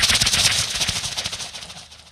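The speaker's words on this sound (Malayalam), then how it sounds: "വെടിക്കെട്ടിന്റെ ശബ്ദമുണ്ട്" Fireworks sound effect played during a comedy stage show, a quick rattling burst of crackling bangs in rapid succession that fades out over about two seconds.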